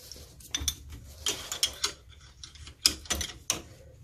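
Ratchet working a small stubborn bolt on the oil pan of a BMW N54 engine (135i/335i), giving irregular bursts of clicking and metallic scraping, close and moderately loud, with short pauses between strokes and no talk.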